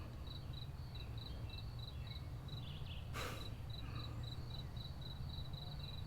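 Crickets chirp in a steady, rapid pulse in the background around 4:30 at a rainy car-camping spot, with one brief louder rustle partway through.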